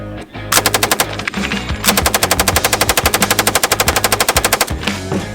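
Rapid automatic gunfire from Polymer 80 AFT-built rifles at an outdoor shooting event, two long, loud, evenly spaced bursts of shots, the second lasting about three seconds, with a brief pause between them.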